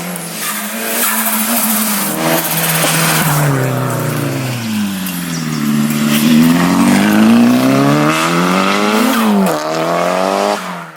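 Nissan S14 with a mostly stock SR20DET turbo engine and aftermarket exhaust, revved repeatedly on the spot: loud, close exhaust note rising and falling in several long sweeps, no speech.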